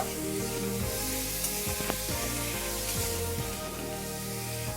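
Boiled, mashed banana flower and spices are stirred in a hot pan, giving a steady close sizzle with soft scraping strokes throughout and no talking.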